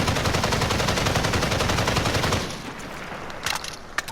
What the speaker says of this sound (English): that was me trying to compensate for the recoil while hip firing